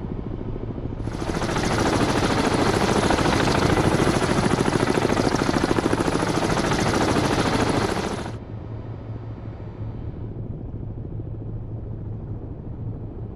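Helicopter in the submarine video game Cold Waters, a loud dense rapid rotor chop with broad roar that holds for several seconds, then cuts off abruptly to a lower steady rumble.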